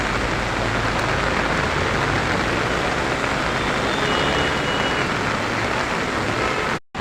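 Heavy monsoon rain pours steadily in Khed beside an old bus station, a dense, loud continuous hiss with no talk, cutting out briefly at the very end.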